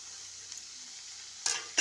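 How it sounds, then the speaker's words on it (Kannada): Tomatoes fry in a pan with a soft, continuous sizzle, close and quiet, ending in a brief louder burst of crackling. "ಟೊಮೆಟೊವನ್ನು ಹಾಕಿ ಚೆನ್ನಾಗಿ ಫ್ರೈ ಮಾಡ್ಕೊಳ್ತಾ ಇದ್ದೇನೆ"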